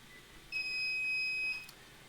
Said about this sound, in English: the Cetus machines are really vocal. So it's like, beep, I'm ready to print. Beep, beep, beep.